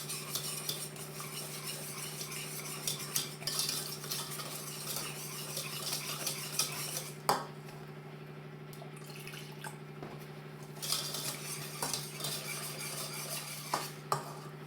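A spoon stirs sugar and flour in a pot as milk is poured in little by little, giving a steady soft scraping with light clinks and occasional sharper knocks against the pot, near and alone under a constant low hum.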